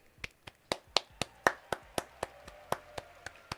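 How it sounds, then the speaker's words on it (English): A single pair of hands claps slowly and evenly, about fourteen sharp, close claps at a steady rhythm, to applaud the trainers at a Pokémon video game world championship watch party, with no voices. "Round of applause."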